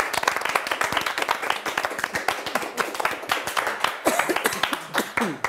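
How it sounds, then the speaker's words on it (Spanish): Studio audience at a Spanish basketball TV show claps in a lively, uneven patter of close individual hand claps, fairly loud and sustained without talk. "¡Vamos con el aplauso!"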